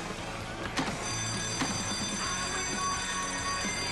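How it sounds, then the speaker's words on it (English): Alarm bell ringing steadily during a fire in a building, a continuous electric ring held at a fairly loud level throughout. "The alarm! It's over there."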